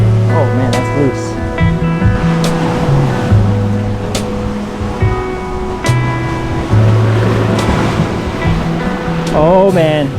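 Ocean surf running high at the tide line on a rocky Guam coast, a loud continuous wash that swells and recedes up close, with other layered noise mixed in.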